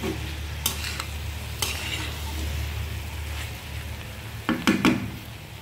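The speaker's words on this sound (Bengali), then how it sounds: "এখন হচ্ছে আমি আরেকটু নেড়ে দেবো। এটা কিন্তু যত সুন্দর করে কষানো হবে ততই মজা হবে।" Vegetable masala with winter vegetables sautéing in a pan, a steady low sizzle under repeated scraping stirs, with a couple of sharper clatters of the spoon near the end.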